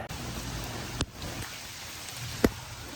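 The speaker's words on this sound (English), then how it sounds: "It is pouring rain outside." Steady, dense rain pours down outdoors onto a roof with gutters, a constant hiss with a couple of sharper drips or taps standing out.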